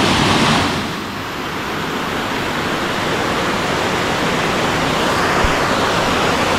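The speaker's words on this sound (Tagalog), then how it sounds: "May pa falls na maliit lang." Small waterfall at a hot spring, a steady broadband rush of falling water that stays loud and constant throughout, close by and alone with no talking.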